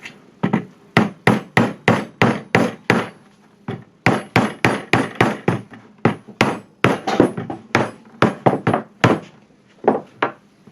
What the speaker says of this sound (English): Might be helpful to take a hammer to it.